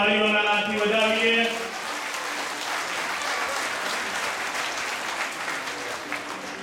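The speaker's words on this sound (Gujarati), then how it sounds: "આપણે બે હાથ ઊંચા કરીને તાળીઓના નાદથી વધાવીએ" Loud audience applause welcoming guests at a religious gathering rises after a brief sung or chanted opening, then continues as a steady wash of clapping to the end.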